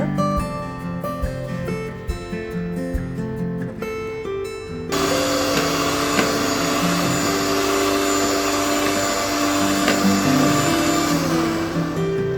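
An electric mixer beats chocolate cake batter with a steady, loud whirring drone that shifts to a harsher, brighter pitch partway through and then runs on without pause.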